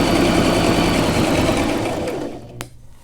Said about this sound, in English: gently press the foot on the floor, and you can hear the machine warming up. And it's going to sew.